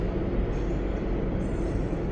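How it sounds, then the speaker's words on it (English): A train rolls by at night in Toronto, a steady broadband rumble that holds level throughout without clear peaks or gaps. "as a train rolls by"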